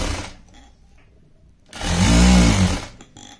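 A sewing machine runs in one short burst of about a second while stitching a buckram strip, a close, loud mechanical whir that rises and fades, with quieter handling noise before and after.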